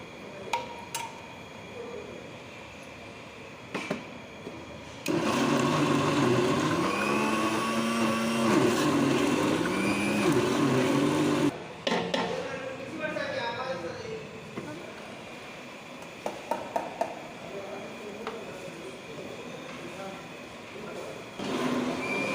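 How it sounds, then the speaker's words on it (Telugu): A kitchen mixer grinder whirs loudly for about six seconds as it grinds cooked, cooled mixed vegetables for a pickle chutney, with quieter kitchen noise and a voice speaking before and after. "ఇలా మంచిగా మిక్సీ అయితే పట్టుకొని తర్వాత పోపు వేసుకుంటే మనకు చట్నీ రెడీ అవుతుంది"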